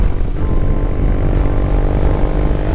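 A 2014 Triumph Thruxton 900 motorcycle runs on a test ride, its engine a loud, steady, low rumbling drone mixed with wind rush, continuous and close throughout.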